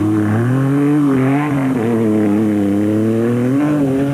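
Toyota Land Cruiser and other off-road race cars in the Caledon 400 desert race, engines droning loud and steady with rising and falling harmonic pitch as they drive past close by.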